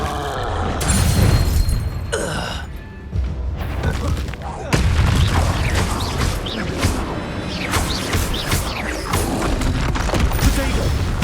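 Explosive spell blasts in the video game Hogwarts Legacy, with heavy booms and crashing bursts over loud battle noise, while a player shouts and talks throughout.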